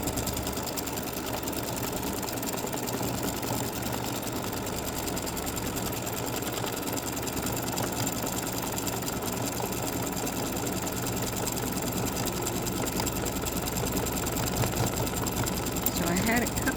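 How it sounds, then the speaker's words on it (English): Embroidery sewing machine running steadily as it satin-stitches around the base of a free-standing lace Christmas ornament, a constant close mechanical whir and buzz with no breaks throughout. "let's do the satin stitching around the ornament"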